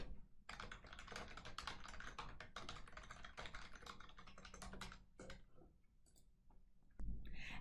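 Rapid typing on a computer keyboard while signing in, a dense run of quiet key clicks for about five seconds, then a few scattered taps and a single heavier thump near the end.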